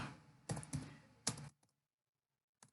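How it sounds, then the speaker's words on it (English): Close, quiet keystrokes on a computer keyboard: a short cluster of clicks and taps, then silence and one last tap. "Let me type 101."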